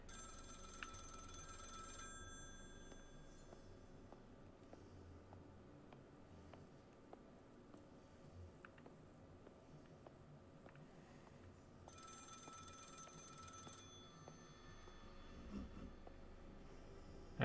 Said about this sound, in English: I hear a phone.